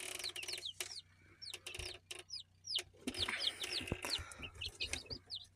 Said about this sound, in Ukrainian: І різні курчатка.